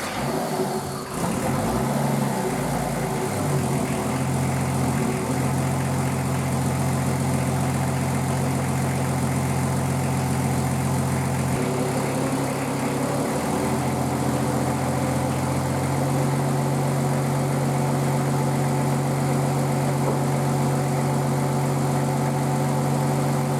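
Nissan Patrol RD28 diesel engine idles steadily with its injection pump timing retarded, a continuous low rumble with a ticking knock after a brief start-up burst, heard close and without speech over roughly twenty seconds.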